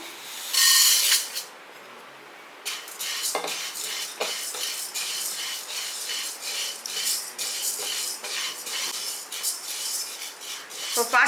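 Moong dal being dry-roasted in a pan while a spoon stirs it, heard as steady, close scraping and rustling strokes with metallic clinks, preceded by a short loud scrape and a brief pause.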